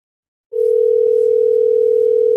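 A steady, loud telephone ringback tone starts after a brief silence and holds continuously while a phone call is being placed, with no talking over it.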